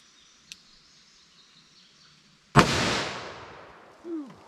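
A single sharp, loud .44 Magnum handgun shot cracks out and rings away in a decaying echo. A faint click comes before it and a brief chirp follows.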